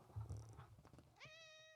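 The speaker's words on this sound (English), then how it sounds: "sorry, that's my cat." A house cat meows once, a clear rising then steady call that follows a brief burst of background noise and low sounds in a home recording setting.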